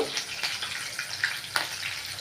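Green chillies frying in oil in a pan for fish pickle, a close, moderately loud crackling sizzle with scattered pops and brief bursts of spatter.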